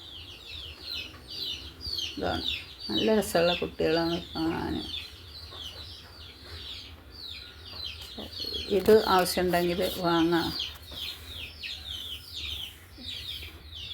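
Young fancy chicken and mani duck chicks, about six weeks old and kept together for sale, keep up a busy high peeping under a voice, which speaks in two longer stretches.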